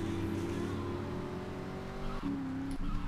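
A car in Grand Theft Auto III drives along with a steady, droning engine hum that shifts pitch briefly near the end, fairly faint and without voices.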